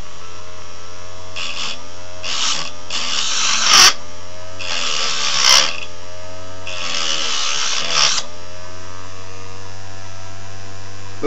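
A power tool deburring the ends of freshly cut steel rods runs at a steady hum, with several loud bursts of grinding as each rod end is pressed to it, roughly one every second or two, no talking.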